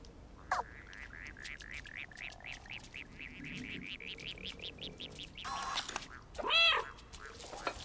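The cat in the video game Stray gives a long run of short, evenly spaced chirping mews, then one louder, drawn-out meow near the end, all close and clear over a quiet background.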